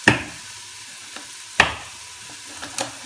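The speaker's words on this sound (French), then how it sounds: "notre oignon est en train de revenir tout doucement dans la casserole" Onion fries gently in a saucepan with a soft, low sizzle, broken by three or four sharp utensil clicks or stirs against the pan.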